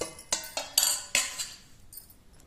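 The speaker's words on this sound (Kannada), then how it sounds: "1 ಸ್ಪೂನ್ ಅರಿಶಿನ ಪುಡಿ ಮತ್ತು 1 ಸ್ಪೂನ್ ಉಪ್ಪು ಎಲ್ಲ ಹಾಕಿ ಮಿಕ್ಸ್ ಮಾಡಿಬಿಡ್ರಿ" A metal spoon clinks and scrapes against a dish as fish is mixed with turmeric powder and salt, a few sharp close knocks followed by softer scraping.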